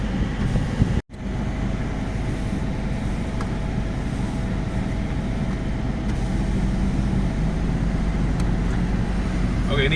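A Citroen turbo car drives with a steady, droning engine and road noise close by. A brief dropout comes early on, and people talk inside the car over the engine.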